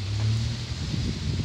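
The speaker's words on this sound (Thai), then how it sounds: "เอารับลมกันด้วยกันค่ะมารับด้วยกัน" Strong evening wind gusts across a microphone outdoors near banana plants, making a steady, loud, broadband rushing roar with low buffeting rumble throughout.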